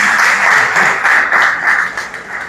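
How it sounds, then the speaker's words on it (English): An audience claps at a primary and infant school's new building opening, with loud, dense, steady applause filling the space for a few seconds. "round of applause again,"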